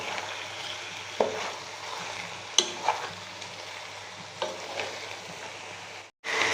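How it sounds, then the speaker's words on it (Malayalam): Chicken stirred into sautéed onions in a pan while making chicken stew, giving a steady soft sizzle under occasional scrapes and clacks of a spoon, close and fairly quiet, with no voices. "ചിക്കൻ ചേർത്ത് നന്നായിട്ട് മിക്സ് ചെയ്യുക."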